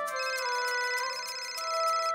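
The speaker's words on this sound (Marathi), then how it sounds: "ऑफिस मधनं फोन आला." A phone ringing with an incoming call from the office, a bright, steady electronic ringtone with sustained tones pulsing in a regular rhythm, close and clear with no voices.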